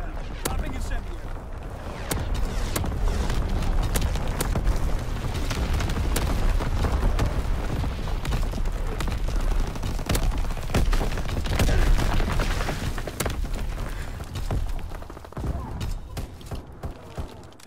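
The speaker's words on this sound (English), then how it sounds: "Dropping incendiary." Incendiary bombs explode in a WWII video game as a dense run of sharp blasts and rolling booms, loud and close, cracking again and again over a continuous rumble before thinning out toward the end.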